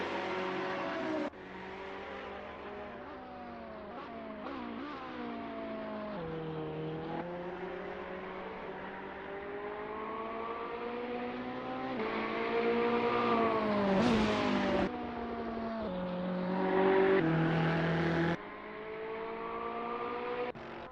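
A Ferrari 488 GT3 race car on the VIR circuit, its engine note climbing steadily through the gears in long rising pulls, with sharp shifts and a louder surge near the end.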